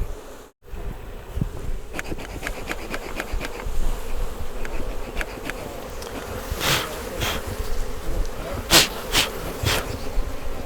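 Honey bees buzz thickly around hive frames during transfer beekeeping, a steady close drone with individual bees whining past the microphone and a few brief louder passes.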